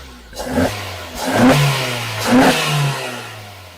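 A Suzuki Jimny engine fitted with a K&N air filter revs three times in quick succession, each blip rising and falling back to a low idle, loud and close.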